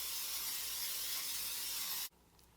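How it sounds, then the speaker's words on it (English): A steady, close aerosol hiss of cooking spray lasting about two seconds, then cutting off abruptly into quiet. "Adding some pan spray."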